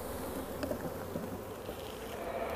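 Honey bees shaken off a hive frame, buzzing in a dense, continuous hum close by at low volume.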